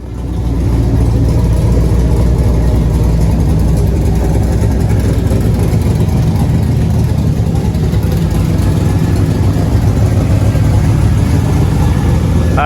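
A 1998 Pontiac Firebird Formula's engine idles loudly and steadily up close, a deep continuous rumble with no pauses and no voices.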